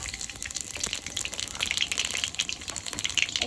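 Nigella seeds and a torn dried red chili hitting hot mustard oil, a loud, dense crackling sizzle that stays strong and close for a few seconds with no talking.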